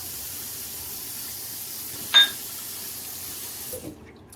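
Tap water runs steadily from a bathroom faucet while someone rinses after a safety razor shave. The hiss is soft and continuous, with one brief clink near the middle and a small splash near the end.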